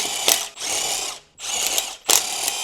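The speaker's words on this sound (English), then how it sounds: "Use the large 19mm deep socket with an impact wrench to remove the lug nuts." An impact wrench removes the 19mm lug nuts with a deep socket on a 2011 Ford Explorer 3.5L. It fires in three loud hammering bursts, each about half a second long, separated by short gaps.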